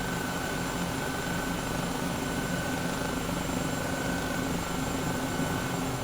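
Helicopter in Microsoft Flight Simulator flying along a canyon while climbing, a steady continuous rotor and engine drone with a constant whine above it, even in loudness and heard alone without talk.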